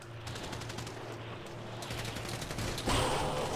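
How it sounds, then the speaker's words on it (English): Shotgun fire in a GTA video game comes as dense, rapid gunfire bursts over a constant background hum, rising toward a louder blast near the end. "That's why I switched to a shotgun."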